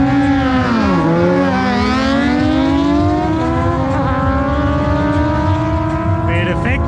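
A 650cc motorcycle accelerates hard off the line at a Thursday street-racing event at an airport, its engine note climbing loud and close through several gear pulls while other bikes rumble in the background.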